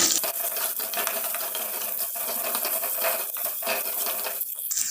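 Onions sautéing in oil after fenugreek for onion rasam, a continuous close crackling sizzle with scattered clinks and scrapes of a ladle against the pan, steady throughout, no talking.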